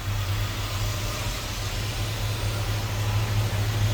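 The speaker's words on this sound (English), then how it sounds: "We're revving it up, giving some RPM." An LS-swapped Squarebody C10 truck engine runs steadily close by, a constant low droning hum with a broad hiss and no clear revving, alone with no voices.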